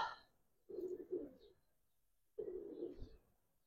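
Pigeons coo softly nearby, two low drawn-out coos separated by a short pause, with no other sound around them.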